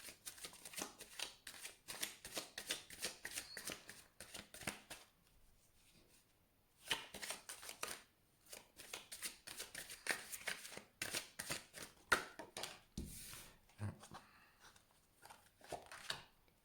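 Oracle cards are shuffled and drawn for a reading: soft, rapid riffling and flicking in quiet bursts, with a short pause midway and a few sharper card snaps near the end.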